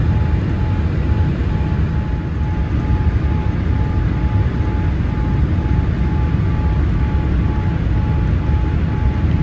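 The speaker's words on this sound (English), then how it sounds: "The plane is gradually descending." Cabin noise inside a Boeing 787-9 airliner descending on final approach: a loud, steady broadband roar of engines and airflow with a faint constant tone, unbroken throughout.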